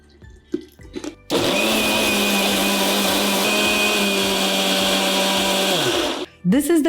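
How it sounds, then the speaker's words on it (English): An electric kitchen blender grinds a cooled spice mixture into a fine paste for a festive desi chicken roast gravy, with a steady loud whir for about five seconds between brief clinks and handling noises. "once it's cooled, grind it to a fine paste."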